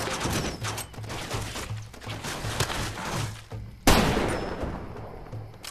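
Gunfire in the video game Far Cry 2: scattered shots and clatter under background music, then one loud, sharp shot near the end, with no one talking.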